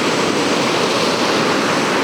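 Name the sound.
sea waves hitting rocks at Ayrmer Cove, Devon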